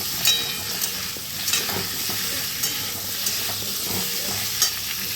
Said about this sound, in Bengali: এগুলো একটুখানি নাড়াচাড়া করে নেবো সাথে